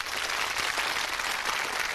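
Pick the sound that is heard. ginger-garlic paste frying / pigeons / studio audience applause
studio audience applause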